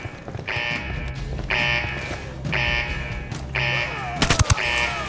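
Gunfire in the Ghost Recon Wildlands video game: repeated bursts of automatic fire in regular rhythm, four or five loud volleys with a sharp cluster of shots near the end, over background game sound.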